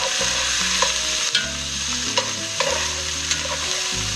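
Chopped mirepoix vegetables sweat in olive oil in a pan, a steady close sizzle broken by several soft stirring knocks and scrapes, with no talking.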